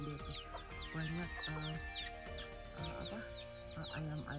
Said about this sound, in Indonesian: Dan lihat tuh ayam-ayam di dapur.